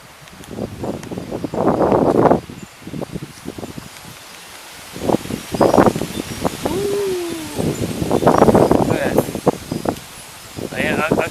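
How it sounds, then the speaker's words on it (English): Strong autumn wind gusts of 30 to 40 mph blow through trees in East Haven after a cold front, with leaves rustling in bursts while a person talks and exclaims over it. "The wind is blowing like crazy, about 30 to 40 miles an hour in gusts."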